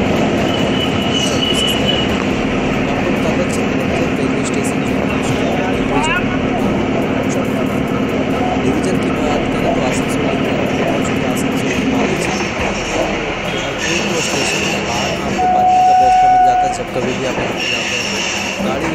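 A train at Chittaranjan railway station in Jamtara district, a loud continuous rumble of rolling wagons with brief wheel squeals, under voices in the background.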